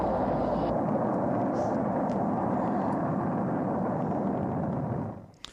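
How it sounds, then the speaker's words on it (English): The Apollo 11 rocket lifts off from Kennedy Space Center, a continuous loud, dense roar of engines filling the clip for about five seconds before cutting away abruptly. "That was the sound of Apollo 11 blasting off from Kennedy Space Center"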